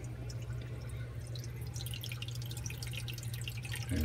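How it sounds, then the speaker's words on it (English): Water runs back through the filter screen of a Red Sea Reefer 250 reef aquarium, a steady close trickle and splash with dripping that swells louder in the final moment. "Now the water can flow through the screen."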